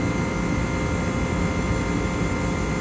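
Alborg boiler machinery in a ship's engine room runs with a loud, constant, broadband roar and deep rumble, steady without pause and with no voices over it.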